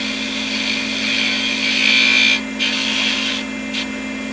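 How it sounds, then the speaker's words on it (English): Skew chisel taking fine finishing cuts on wood spinning on a lathe at a live woodturning demo, a steady close scraping hiss over motor hum, briefly dropping out twice as the tool lifts. "So I was skewing along, really taking really nice fine cuts."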